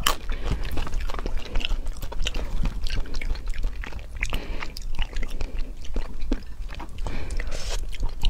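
Close, wet chewing and biting of spicy food, steady crunchy and smacking bites repeating throughout without talking.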